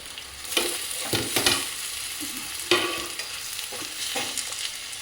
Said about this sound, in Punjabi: ਆਪਾਂ ਇਹਨੂੰ ਇਹਦੇ ਵਿੱਚ ਫਰਾਈ ਕਰ ਲੈਨੇ ਆ